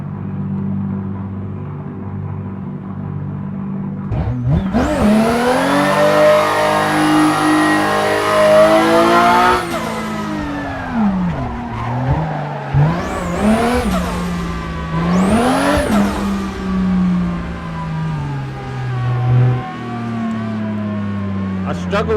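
Drift cars rev hard at a live Drift Masters event, engines climbing in long high-pitched wails with bouncing rev-limiter bursts, loud and close, while a voice talks underneath at times.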